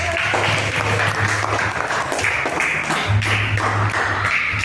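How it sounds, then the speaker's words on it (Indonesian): Group applause in a school learning session, loud close clapping with some individual claps standing out, plus a low hum underneath throughout. "Oke, kita beri tepuk tangan yang meriah."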